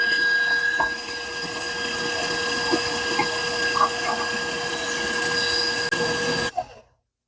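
An electric mixer beats egg whites with sugar until stiff, giving a steady motor whine with a humming tone and light clatter against the bowl before it cuts off abruptly near the end.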